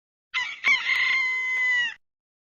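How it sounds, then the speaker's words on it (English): A rooster gives one loud, close cock-a-doodle-doo crow that lasts about a second and a half and stands alone in silence. "The rooster."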